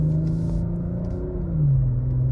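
A BMW M340i accelerates onto a freeway, heard from inside the car as a steady engine drone whose pitch climbs toward the end. No one speaks.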